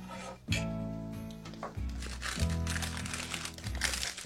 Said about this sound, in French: On va pouvoir enlever le papier.